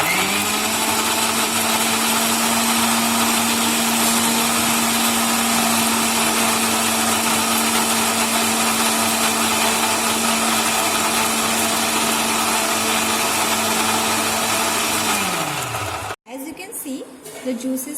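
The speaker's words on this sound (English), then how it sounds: "So now I will put these fruits into this mixture grinder" An electric mixer grinder blends guava and pomegranate with a little water into juice, giving a loud steady motor whine for about fifteen seconds before it winds down and stops.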